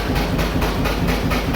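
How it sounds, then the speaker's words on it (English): A John Deere AR tractor runs with its PTO engaged, a loud, close mechanical rumble with a rhythmic clacking pulse and no voices. "The PTO is going."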